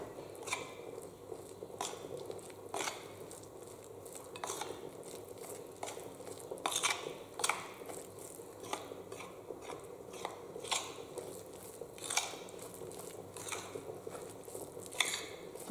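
Tunisian bsisa, a flour mix, being stirred together with oil in a bowl: a quiet, uneven run of soft scrapes, squishes and light utensil clicks close by, with no talking.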